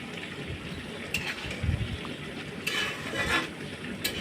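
Polao rice with fried onion being stirred in a pot: continuous scraping and shuffling of grains with a low sizzle, punctuated by a few brief metallic clinks of the spoon against the pot.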